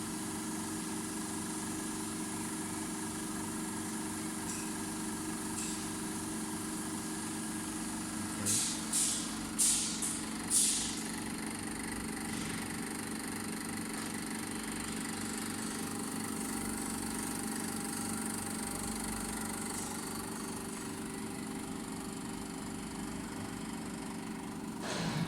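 CAT HEUI fuel injector running on an NT700 test bench, a steady loud mechanical drone with a high whine, broken by a few quick sharp clicks partway through, with no talking.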